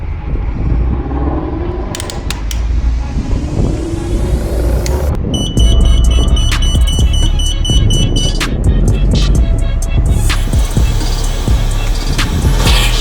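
An automatic car wash runs loudly around a Focus ST with its windows up, a dense churn of spraying and mechanical whirring that intensifies midway, with rattling, clicking and high tonal whines over a deep rumble.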